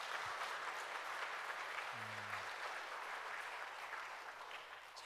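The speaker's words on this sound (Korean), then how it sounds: "박수 한번 하죠." A church congregation applauds during a special dawn prayer service, a steady even wash of clapping that softens slightly toward the end, with a brief low voice near the middle.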